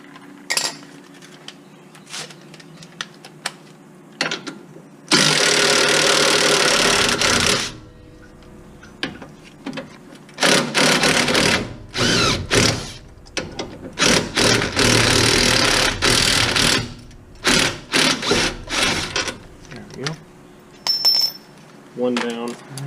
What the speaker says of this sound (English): Break the bottom shock bolt loose, and then we'll pull it out with the impact.